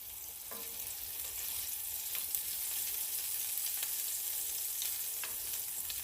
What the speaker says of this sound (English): Going to add a little bit of the consomme to the inside. I'm just going to let that brown up.